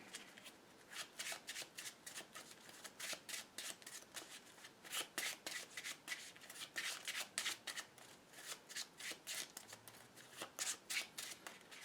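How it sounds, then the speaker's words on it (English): Close, quiet riffle shuffling of a deck of Marvel Legendary cards during a Wasteland Hulk game, repeated crisp bursts of cards flicking together in a regular rhythm with short pauses between. "And then we'll shuffle again."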